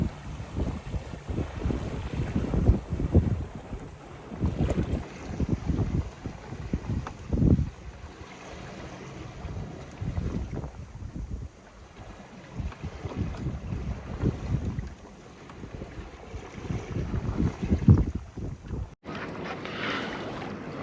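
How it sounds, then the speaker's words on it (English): A sailboat motoring under engine power past the Harwich docks, with a steady low engine drone and water wash mixed with gusty wind buffeting the microphone throughout, ending in a brief abrupt change near the end. "I'm going to motor to past Harwich and the docks, and then I'll switch the engine off"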